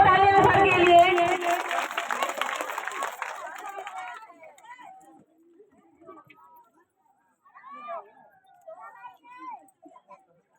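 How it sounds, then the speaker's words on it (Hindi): Applause and crowd noise rise for the chief guest at an International Women's Day gathering in Tikamgarh, loud for a few seconds before fading away, followed by scattered faint voices and chatter. "तालियां, जोरदार तालियां सर के लिए।"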